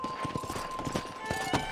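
Horse hooves clip-clop in Red Dead Redemption, a close, quick, even beat of thuds that keeps on through the short stretch over faint game background sound.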